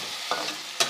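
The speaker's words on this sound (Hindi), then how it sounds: "इसमें शामिल करते हैं 2 खाने के चम्मच लहसुन अदरक का पेस्ट।" Two tablespoons of garlic-ginger paste frying in a pan after the onions, a brief moment of soft sizzling with two quick scrapes of a stirring spoon, close and without speech.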